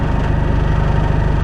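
A tractor working under load while mowing grass, a loud, steady, close engine drone with a low throbbing rumble and no pauses.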